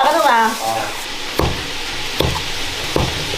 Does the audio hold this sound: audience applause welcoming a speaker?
no